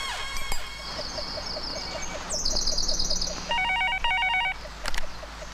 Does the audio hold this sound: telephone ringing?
yes